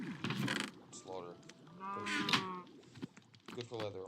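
Minecraft cows mooing and lowing in the game, several bleat-like calls overlapping and trailing off within a few seconds, fairly close, with some speech mixed in.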